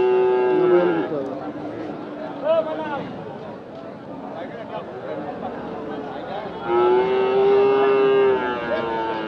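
Cattle at a traditional weekly cow market in Bangladesh, including Friesian calves and bulls, moo loudly in long drawn calls, one near the start and another toward the end, over a steady crowd murmur with people talking.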